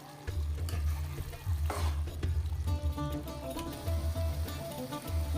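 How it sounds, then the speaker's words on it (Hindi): Round gourd (tinda) curry stir-frying in oil in a pan, with a continuous close sizzle and repeated scraping strokes of a spoon stirring through it. "अब इसको 2 से 3 मिनट में इसकी बुनाई करूँगी।"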